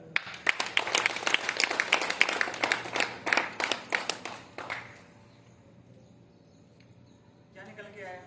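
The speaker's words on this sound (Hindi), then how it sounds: "एक बार ताली ही बजा दो तब तक" An audience bursts into clapping and applause for about five seconds, dense and lively, then dies away into quiet room tone.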